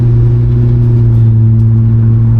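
A 1969 Pontiac LeMans convertible engine drones loud and steady from close by, a low even hum with no clear rise in pitch, running alone without any voices.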